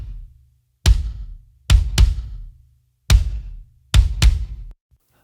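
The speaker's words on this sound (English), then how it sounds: "let's solo up the kick drum and have a listen" Soloed kick drum from a layered drum mix: five deep, booming hits at an uneven pace, each with a long decaying tail, heard alone and dry.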